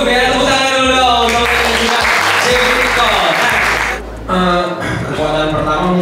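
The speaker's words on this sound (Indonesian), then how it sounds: "Tepuk tangan dulu dong." Studio audience applause on an Indonesian entertainment show, a loud wash of clapping over a steady rhythmic music bed with a brief dip before the clapping swells again.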